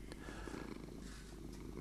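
Minecraft cat purring in-game: a soft, continuous low rumbling purr, close and steady, with no voices over it.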